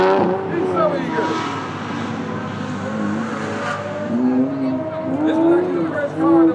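An old-school Lamborghini sports car, the first model built under Audi ownership, drives along the Brands Hatch race track with its engine note rising and falling. The engine is fairly close and steady, and voices talk over it throughout.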